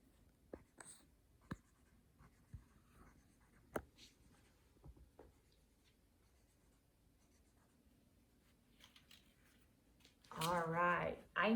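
Pencil scratching and tapping on paper while drawing a set of small objects for a counting lesson, soft intermittent strokes with quiet pauses, ending in a louder burst of talk.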